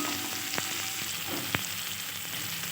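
Prawns cook with spices in a pan, giving a steady bright sizzle up close, with a couple of sharp utensil clicks against the pan and no talking.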